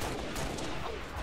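Gunfire from the video game Halo: The Master Chief Collection bursts out in a dense, rapid volley of shots that fills the whole moment, loud and continuous.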